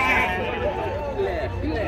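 Sheep bleat in wavering calls at a sheep, goat and pig livestock fair, heard beneath steady crowd chatter and nearby talking.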